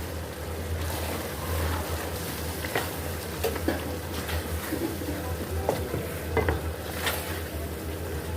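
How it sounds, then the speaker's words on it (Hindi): Cream is stirred into beef malai handi in a pot: a soft, steady sizzle runs throughout, broken by scattered scraping strokes of the spoon against the pot, close and fairly quiet. "यहाँ पर हमने 1/2 कप क्रीम का ले लिया, वो ऐड कर लेंगे इसमें और इसको अच्छे से मिक्स कर लेते हैं।"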